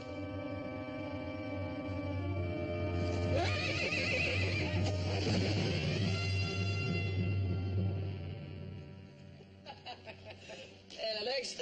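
A horse whinnies in a Western ranch setting, a long rising and falling neigh lasting several seconds over a low tonal background, followed by brief snorting and movement near the end.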